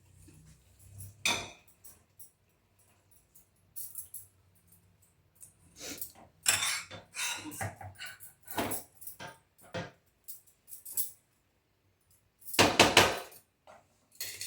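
Cooked rice is spooned onto a curry layer for paneer biryani, giving scattered soft thuds and light scrapes of a spoon against a pot, close and intermittent with quiet gaps.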